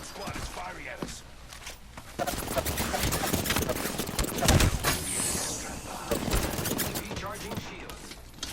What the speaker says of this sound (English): A second squad is firing at us.